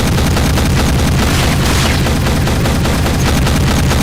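Heavy shotgun blasts from a mech in Mecha Knights Nightmare, overlapping booming shots that form a loud, continuous barrage, close and alone without any voices.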